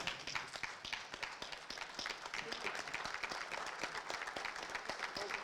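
A crowd at a West Cork rally reunion gives a standing round of applause for two rally drivers, brisk, distinct handclaps from many people that continue steadily throughout.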